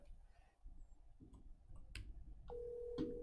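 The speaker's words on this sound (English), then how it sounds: "I can hear the phone ring." Telephone on speakerphone: clicks and faint line noise give way to a steady ringback tone that holds from the midpoint to the end, moderately quiet with no talk over it.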